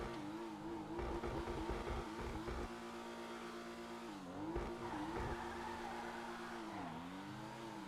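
A car driven in GTA 5 Online roars steadily with revving engine pitch rising and falling through gear changes, plus occasional tire squeals and skids, loud and close throughout with no talking.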